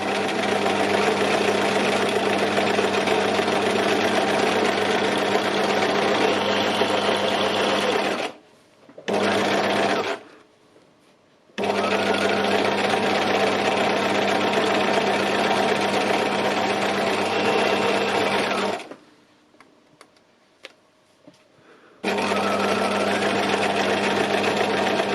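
A sewing machine runs steadily during free machine embroidery on fabric, its loud, even mechanical whir broken by two short pauses where the stitching stops and then starts again.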